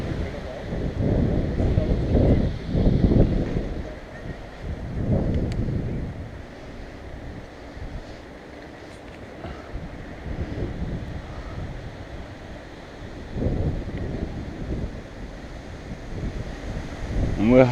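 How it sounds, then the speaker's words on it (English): Strong tailwind buffeting the microphone of a cyclist riding beside a river, coming in heavy rumbling gusts that swell and fade over a constant low roar. "You don't need to pedal when you've got a tailwind this strong."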